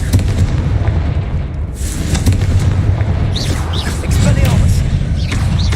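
Explosive Confringo spell blasts in the wizarding game Hogwarts Legacy, a series of loud booming bursts and crackling pops amid busy combat noise, with a voice talking over them.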